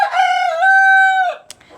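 A single loud rooster crow rising and holding a drawn-out tone, followed by a short cluck, close by and alone.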